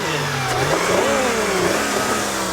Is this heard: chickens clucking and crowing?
no